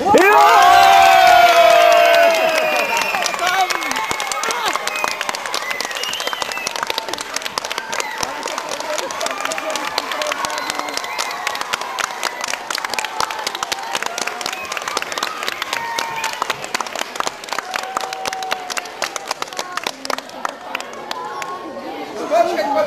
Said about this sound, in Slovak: to bol iba potlesk pre víťaza